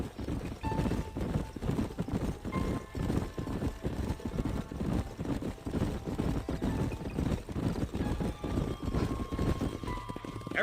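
Horses gallop in a Wild West video game, a dense steady clatter of hoofbeats running throughout with an occasional whinny mixed in.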